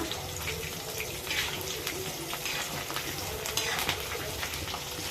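Food sizzles and crackles steadily as it fries in a pan during home cooking of podalangai (snake gourd) puttu and garlic kuzhambu, with occasional stirring scrapes over a continuous hiss.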